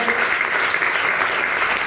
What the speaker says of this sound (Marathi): जोरदार सर्वांनी टाळ्या